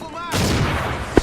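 A single booming gunshot in a competitive video game match, loud and close with a long decaying rumble, followed by a brief sharp click, while players talk.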